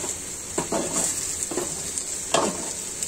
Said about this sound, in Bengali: কষিয়ে নেবেন এভাবে ভালো করে।